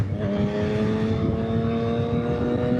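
A 2025 Yamaha MT-09 SP motorcycle fitted with a Kelpi Moto exhaust cruises through a downtown street, its engine droning steadily and close with a rising harmonic tone through a gear change, no voices.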